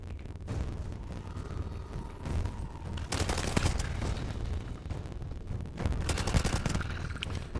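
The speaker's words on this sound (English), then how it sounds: "Just keep shooting." Rapid bursts of gunfire in the video game Starfield, dense and sustained with heavier volleys after the midpoint, loud and close with no talk over it.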